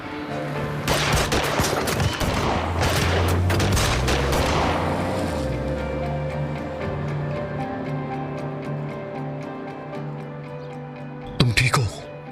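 Gunfire erupts at a house in a Turkish drama scene: rapid, dense volleys of shots for several seconds over tense background music. After a quieter stretch, one last close burst goes off.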